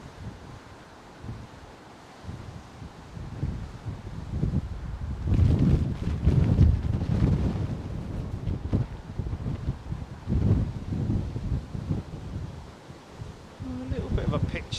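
Blustery westerly wind buffets the microphone near the arrival runways at London Heathrow Airport, a steady rushing roar that swells louder midway and keeps gusting throughout, with no voices.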